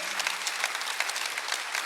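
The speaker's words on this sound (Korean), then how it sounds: "박수 하나 주세요" A church congregation applauds during a Sunday worship service. The steady, dense clapping of many hands fills the space for a couple of seconds with no voices over it.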